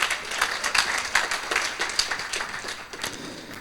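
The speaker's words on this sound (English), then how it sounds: "Big applause for him, please." Applause from a conference audience at a Dreamforce sponsor session, a dense, steady patter of many hands clapping close by for several seconds, with no voices over it.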